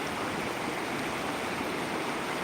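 Fast water rushes continuously nearby, a dense, even roar of a flooded seasonal village stream shifting stones along its bed, with no voices.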